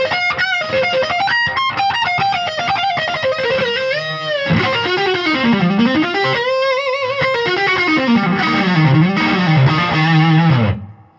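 Electric guitar played through a Jim Kelley amplifier with the gain boost engaged, a distorted, sustained lead line with bending notes and vibrato, loud and upfront with no talking.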